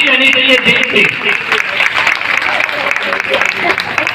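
Dense, loud applause from a crowd at a BJP political gathering rolls on steadily, with a voice speaking over it.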